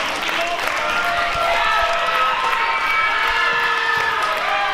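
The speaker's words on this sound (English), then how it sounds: "Crowd showing their appreciation" Wrestling crowd at a women's championship show applauding and cheering after both competitors hit the canvas, a dense sustained roar of clapping and shouts with a few whistles, loud and continuous throughout.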